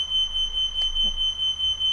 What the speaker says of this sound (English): Oh, my smoke alarm's going off.